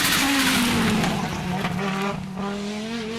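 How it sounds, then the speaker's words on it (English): A loud rally car engine roars close by, its pitch dropping as it downshifts, then settling into a steady drone with a faint tire squeal. "Is that the downshift? You hear that? Is that downshift?"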